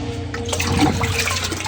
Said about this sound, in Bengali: মগ দিয়ে পানি দিই,